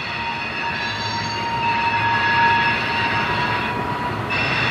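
An NS or CSX freight train rolls past in Fostoria, Ohio, a steady close rumble with high, sustained wheel squeal tones running over it throughout, no talking.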